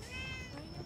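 A cat meows once, a short, fairly close cry with a rising then falling tone, standing alone over a faint low background rumble.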